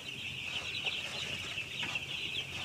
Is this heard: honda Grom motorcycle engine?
no